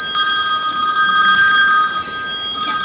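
A telephone rings loudly and steadily for nearly three seconds, a bright continuous electronic bell tone heard alone without any voices.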